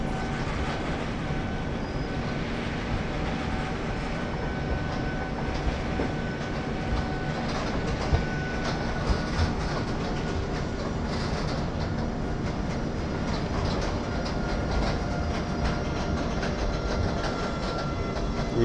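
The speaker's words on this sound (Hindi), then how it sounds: "ये देखिए आप इंडियन रेलवेज़ का सबसे जो अभी पावरफुल इंजन है, ये वो इंजन, इसका लोड कैपेसिटी बहुत ज़्यादा है।" An Indian Railways train hauled by a powerful locomotive rumbles past steadily and loudly, with continuous wheel clatter over the tracks and no voices.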